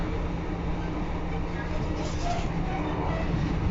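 Steady low rumble and broadband roar inside a class 156 diesel multiple unit train running between Barnetby and Lincoln, continuous and even throughout, with faint voices beneath.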